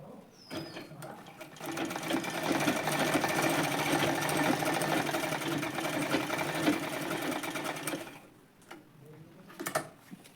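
A domestic sewing machine stitches along the edges of waste fabric for a scissors organizer, running in a steady fast whirring rattle for several seconds, then stopping with a few brief clicks near the end.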